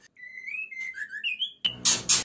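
Thin, high chirps and whistled peeps from white-rumped shama chicks, close and clear, ending with a couple of bursts of harsh noisy rustling.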